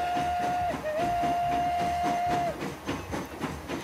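A steam train in the game Transport Fever rolls out, sounding a long, unusual steady whistle over the chuffing and rumble of the moving locomotive, close and loud.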